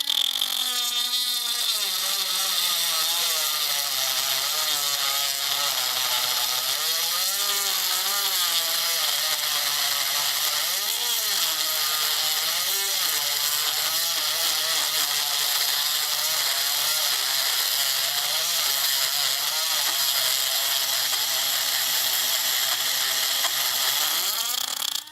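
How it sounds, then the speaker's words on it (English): A high-pitched Dremel rotary tool whines steadily and loudly, its pitch wavering as it drills into metal on a Ford Transit roof rack, running continuously without pause. "get a Dremel, and we're just going to drill out just the side here"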